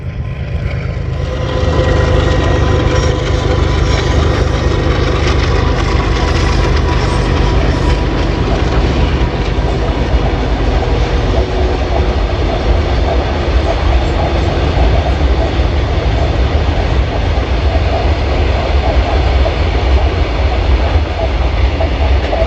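A railway train rolls past nearby, its loud, heavy rumble swelling quickly and holding steady for a long stretch, with a rhythmic wheel clatter running underneath.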